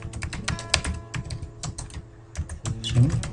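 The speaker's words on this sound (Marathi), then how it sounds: "मी आणखीन एक नाव लिहितो" Typing on a computer keyboard while entering a name into a Microsoft Excel cell, a quick, uneven run of close, crisp key clicks that keeps going from start to end.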